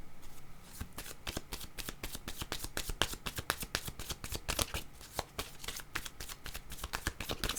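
A deck of tarot cards is shuffled and drawn close up, giving a rapid, continuous riffle of crisp flicking snaps with a rhythmic pulse and no talking over it.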